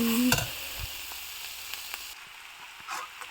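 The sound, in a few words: vegetable fried rice frying in a pan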